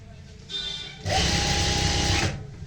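Sewing machine stitching a pleated palazzo pant: a short whirring run, a brief pause, then a louder steady burst of rapid stitching lasting about a second, close up, with a voice speaking around it.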